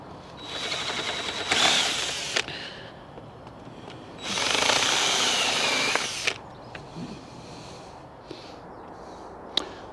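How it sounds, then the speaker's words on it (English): A power drill spins up in two short bursts while spotting witness marks through pre-drilled holes in pieces for a carrot hoop house, with light knocks and handling noises between the runs. "I'll just spot through with the drill just to put a little witness mark in"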